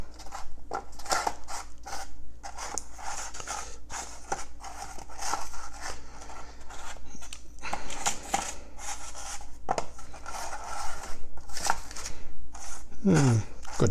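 Delicata squash pieces are set one by one onto a parchment-lined baking sheet, giving soft, irregular taps, crinkles and scrapes close by with no talking, plus a brief sharper rattle at the very end.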